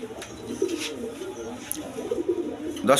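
Giribaz pigeons coo in a low, repeated murmur close by, with several overlapping calls and some brief rustling and higher bird noises.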